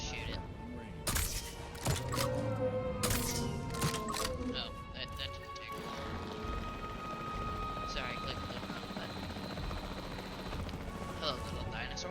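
Capture team helicopter in the Jurassic World Evolution 3 video game, its rotor chop a steady droning thrum beneath talking, joined by sharp cracks and clatter of gunfire early on before settling into a continuous whir.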